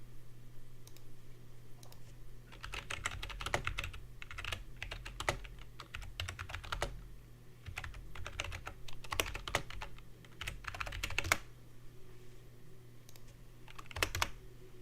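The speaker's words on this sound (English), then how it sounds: "I typed too fast." Fast typing on a computer keyboard, quick bursts of close keystrokes separated by short pauses, with a low steady hum running underneath throughout.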